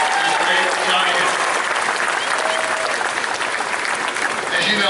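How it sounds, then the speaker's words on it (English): A stadium crowd applauds the families of San Francisco Giants players at the 2018 Wall of Fame ceremony, a steady, dense wash of clapping lasting several seconds with some cheering voices mixed in. "Ryder, how about another round of applause for the families that enabled these great Giants?"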